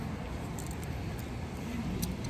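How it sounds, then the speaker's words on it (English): A car approaches outside a Country Inn by Radisson hotel in Peoria, Illinois, a faint low engine and tyre rumble rising slightly against quiet outdoor background, with no one talking. "There is a car coming."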